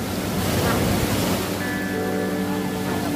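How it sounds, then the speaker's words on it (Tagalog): Strong ocean waves break on the shore of a beach in a steady, broad wash of surf, roughened by wind noise on the microphone, with a faint steady hum entering partway through. "Pag ganitong malakas ang alon,"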